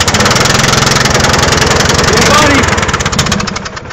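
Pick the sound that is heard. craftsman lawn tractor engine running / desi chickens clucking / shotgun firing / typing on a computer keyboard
craftsman lawn tractor engine running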